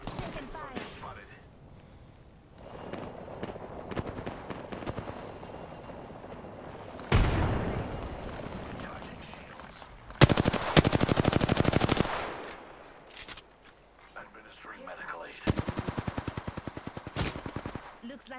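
Rapid automatic gunfire in the battle royale shooter Apex Legends, loud bursts and sustained sprays with sharp single shots scattered through a game mix, clustered in heavy volleys near the middle and end.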